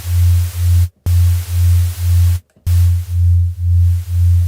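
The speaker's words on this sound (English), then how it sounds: "And then maybe add some white noise into it." Synthesizer white noise layer in an atmospheric pad, broad steady hiss over a pulsing low tone that repeats in even beats, with two brief silent gaps, loud and alone.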